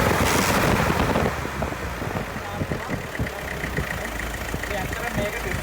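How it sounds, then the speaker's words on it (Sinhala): An engine running steadily while its idle speed is raised by turning an adjustment screw, with a low, rough, continuous hum and a louder burst at the start. A person speaks over it. "දැන් මේක වැඩි කරාම ඔයගොල්ලෝ කියන එන්ජින් RPM එක වැඩි වෙලා නේද?"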